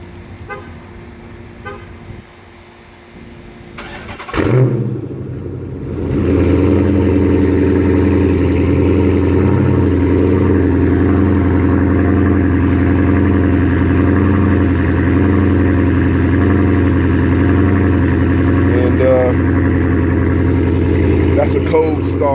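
A Dodge/Chrysler 300 SRT-8 with straight pipes cold-starts with a brief cranking burst, then settles into a loud, steady, rumbling idle that runs on unbroken, with a few faint voices in the background.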